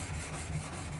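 A wood chisel rubbed back and forth on a sharpening stone, a short, faint, steady gritty rasp with no talking.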